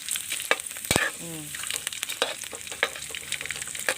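Fish and chili ingredients frying in a pan of hot oil for northern Thai nam prik ong, a steady close sizzle with stirring scrapes and clatters, no talk.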